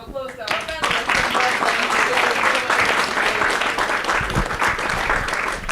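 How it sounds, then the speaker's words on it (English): Sustained audience applause for the panelists at a school event on AI in education, dense clapping from a crowd that holds steady throughout, with a brief voice at the start. "let's give another round of applause to our panelists"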